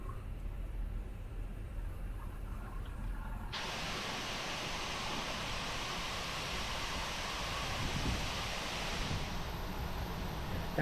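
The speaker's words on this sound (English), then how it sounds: "Definitely windy tonight." Steady wind noise rushes around an Airbus A320 in Microsoft Flight Simulator, a broad hiss that jumps noticeably louder partway through and then holds at a constant roar.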